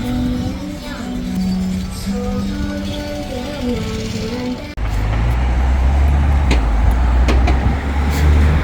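Busy street traffic at a roadside near traffic lights, with vehicles rumbling and passing close by and a heavy low engine swelling in the second half, while a voice talks over the first part.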